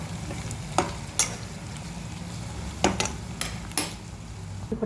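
Bitter gourd curry fries in a pan with a steady low sizzle, while a spoon scrapes and knocks against the metal in a few sharp, irregular strokes, close by with no talking.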